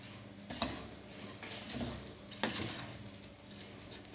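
Rice being stirred in a pot after being toasted for a few minutes, with salt added; a few sharp spoon knocks against the pot rise over a steady low sizzle and scraping, fairly close, with no talking.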